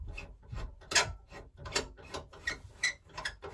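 An ultrasonic vinyl record cleaning machine is raised after its wash cycle with a run of close mechanical clunks, ratcheting clicks and rubbing knocks in an uneven rhythm, with no voices.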